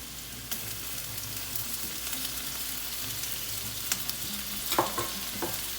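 Large beef pieces fry in butter with onion for a stew, a steady close sizzle under periodic stirring scrapes and a few sharp clinks, no talk.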